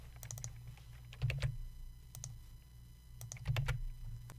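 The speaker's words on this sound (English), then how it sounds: "you'll enter the account ID from the InvoiceExplorer site into the text box" Keys clatter on a computer keyboard as an account ID is typed in, with quick close clicks arriving in short bursts separated by brief pauses.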